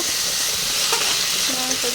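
A dense, steady hiss of frying in hot oil, close up, with faint clinks of a utensil partway through.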